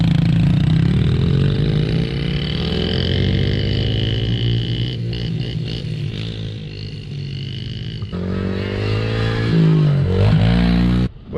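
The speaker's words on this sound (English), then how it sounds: "motorbike time." A motorcycle engine roars steadily up close, revving up and down throughout with a rough, throaty rattle and no talking, on a riverside dirt loop.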